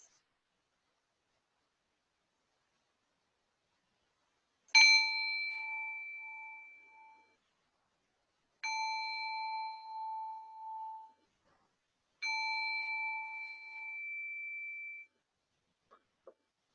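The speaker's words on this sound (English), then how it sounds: "I'll ring the bell in a wee moment" A meditation bell rings three times in a silent room, each clear metallic tone ringing out and slowly fading before the next strike, with a faint tap at the end.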